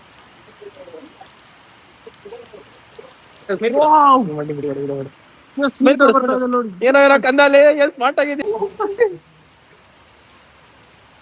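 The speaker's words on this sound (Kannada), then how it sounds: "ಜೋರಾಗಿ ಮಳೆ ಬರ್ತದೆ" Heavy rain falls in Mangaluru as a steady, soft hiss in the background, mostly covered by several people talking loudly over it.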